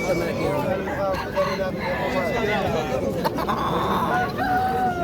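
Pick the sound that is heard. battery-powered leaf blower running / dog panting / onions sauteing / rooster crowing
rooster crowing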